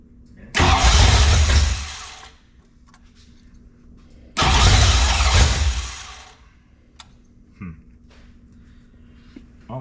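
A 1966 Ford Mustang V8 engine cranks twice in loud bursts of about two seconds each, catching briefly but dying out, with quiet pauses between attempts.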